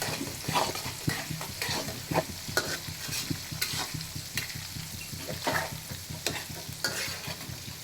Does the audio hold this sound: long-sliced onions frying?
yes